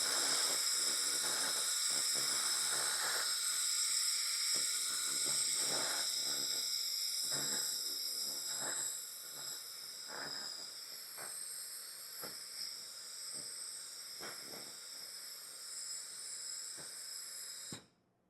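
An X1 Pro laser cleaner works gunk off a part with a steady bright hiss, close and continuous, broken by faint crackling ticks, then cuts off abruptly at the end.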